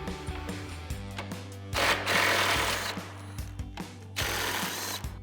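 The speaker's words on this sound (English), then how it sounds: "So we need our 8mm socket and an extension on our impact." An impact wrench with an 8mm socket and extension zips out the headlight bolts on a 2015-2023 Dodge Charger, giving two loud rattling bursts of hammering between quieter mechanical clicks and handling noise.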